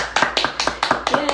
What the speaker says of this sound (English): Audience claps.